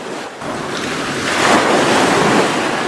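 Loud sea waves of the Bay of Bengal surge onto the beach near Chilika Lake, a steady roaring wash that swells midway, with wind buffeting the microphone throughout.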